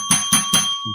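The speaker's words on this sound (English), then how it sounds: "your bell" A bright bell rings in three quick, evenly spaced strikes and then starts a fourth, each tone clear and ringing close and loud.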